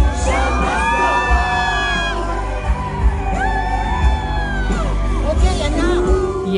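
A crowd at a concert cheers, whoops and screams continuously, a dense wash of many voices with shrill individual yells rising over the roar.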